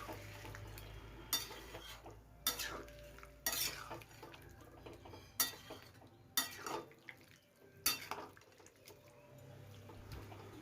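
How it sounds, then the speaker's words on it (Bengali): A spoon stirs and scrapes chunks of green jackfruit with water in a pan, a series of separate clattering strokes over a soft simmering sizzle, close and fairly quiet, with no talk. "এভাবে ভালোভাবে নেড়েচেড়ে জলটার সঙ্গে সবজিটা ভালোভাবে মিশিয়ে নিতে হবে।"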